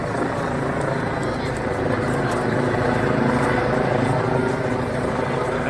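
A gendarmerie helicopter flies overhead, its loud, steady rotor roar filling the whole stretch while a murmur of people sounds beneath it.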